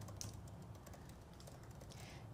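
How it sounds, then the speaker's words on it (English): Rapid typing on a computer keyboard, a steady run of quick, soft key clicks at close range with no talking, heard while a font name is entered during a Cricut craft project. "I'm gonna type in Celine."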